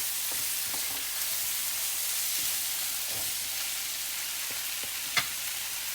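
Soya chunks are stirred into frying masala in a cooking pan for a soybean chilli dish: a soft, continuous sizzle with scattered utensil scrapes and one sharp clack near the end.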